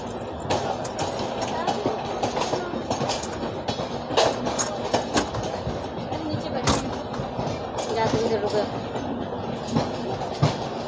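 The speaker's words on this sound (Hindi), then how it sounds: "अराइवल हुआ इधर कोलकाता राजधानी का" Kolkata Rajdhani Express, India's first Rajdhani Express, rolling in with steady wheel rumble and clickety-clack rail joints over a broad noisy wash, scattered sharp clanks throughout.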